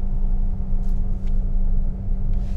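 A Ferrari F12 Berlinetta's V12, the same engine used in the LaFerrari, drones in a steady, loud, low rumble as the car is driven flat-out, holding constant without breaks and with no voices over it.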